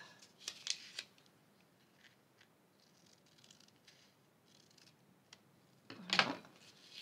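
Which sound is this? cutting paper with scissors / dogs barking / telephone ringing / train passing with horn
cutting paper with scissors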